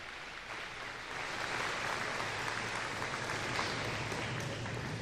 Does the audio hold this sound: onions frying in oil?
no